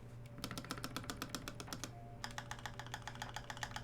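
Rapid typing on a mechanical keyboard fitted with lubed and filmed NovelKeys Creams switches, a close, crisp run of clacky keystrokes with a brief pause midway, over a faint steady hum.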